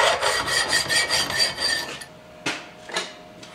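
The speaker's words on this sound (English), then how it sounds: "you can put this onto your piece here and just kind of slide it back and forth, and it'll break most of that burr out" A file rasps quickly back and forth across a burr on a metal crusher piece from a weld-it-yourself can crusher kit. The strokes are rhythmic and close, and a few single scrapes follow once they stop, with no talking.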